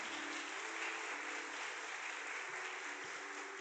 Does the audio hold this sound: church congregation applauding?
yes